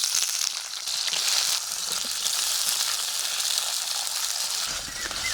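Onion fries lightly in oil for bitter gourd curry, giving a continuous, fairly loud hiss that stays even throughout, with faint soft stirring underneath and no talking.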